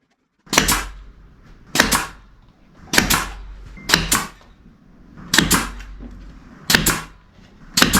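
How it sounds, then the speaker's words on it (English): Clamps are tightened on a plywood glue-up for a backboard and floor piece: about seven sharp, loud ratcheting bursts spaced roughly a second apart, close by, with quiet between them. "Here, I'll clamp it up."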